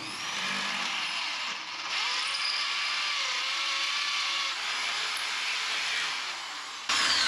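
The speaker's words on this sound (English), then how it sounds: "I'm just going to drill it out to suit." A power drill with a 12mm bit bores out a hole during vehicle fabrication work, a sustained high-pitched whine running steadily for several seconds with brief dips and a stronger burst at the end.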